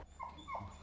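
A dog gives a couple of soft, high whimpers, faint and brief against a quiet background.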